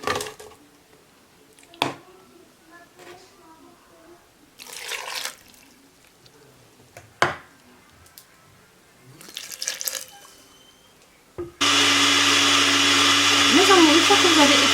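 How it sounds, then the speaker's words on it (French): An onion for a homemade hair remedy is handled with a few scattered knocks and rustles, then a blender roars on and runs in a loud, steady whirr that lasts to the end. "Une fois que vous avez écrasé votre oignon de cette façon"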